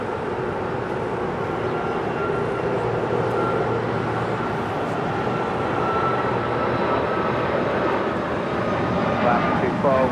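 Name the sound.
American Airlines Boeing 737 MAX 8 departing LAX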